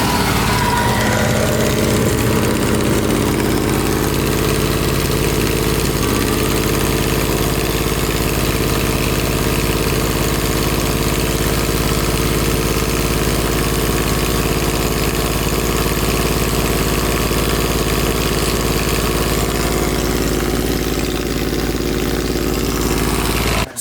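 A BMW E36 fitted with an LS1 V8 idles steadily and loudly throughout, a deep continuous rumble with no voices over it.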